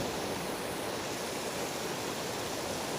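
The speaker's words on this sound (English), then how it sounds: "We will see the running water. This is the running water here." A forest stream in the Black Forest near Schramberg, Germany, rushes steadily, a constant broadband wash of running water at even loudness with no voices.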